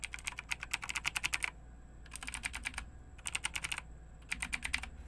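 Bursts of rapid clicky typing on a Razer BlackWidow Tournament Edition mechanical keyboard, close and crisp, with short pauses between runs of keystrokes over a low hum.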